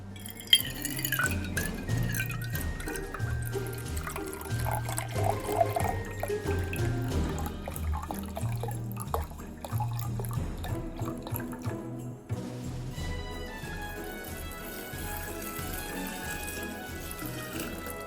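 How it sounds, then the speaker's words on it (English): Cranberry juice is poured for a Christmas punch, a steady close liquid trickle and splash into a container with small clinks, running continuously. "I'm going to add 2 cups of cranberry juice"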